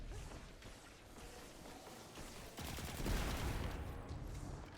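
Rapid weapon fire in a Destiny 2 boss fight, the Anarchy grenade launcher shooting at a shielded boss, a dense crackling burst that swells louder partway through amid game effects.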